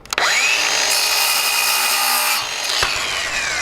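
A power saw cuts wooden strips for cabinet doors in a bus conversion: a loud, close whine spins up, bites through the wood for about two seconds, then runs down, followed by a brief rattle.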